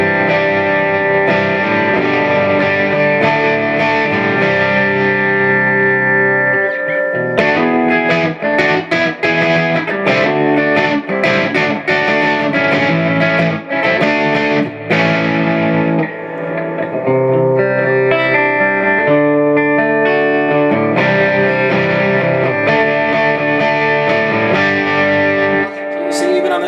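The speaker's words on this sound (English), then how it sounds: "Just gives it a little more bite, which I kind of like in the distortion." A Vox AC50cp2 guitar amp's distortion channel plays a gritty, crunchy electric guitar through chords and riffs, loud and continuous with sustained distorted tones and brief pauses.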